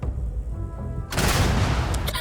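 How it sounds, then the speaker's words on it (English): A grenade goes off in Starfield, a sudden loud blast cutting in after a quiet stretch, followed by a sustained roar and crackle of debris and gunfire. "This calls for a grenade."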